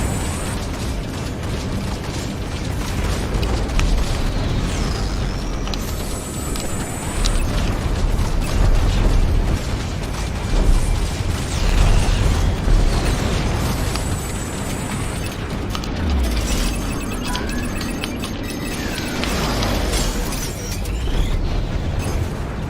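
Colonial ships explode during a space battle in Strike Suit Zero, with repeated booms and bursts layered over constant mechanical whirring, laser fire and dense, loud combat noise.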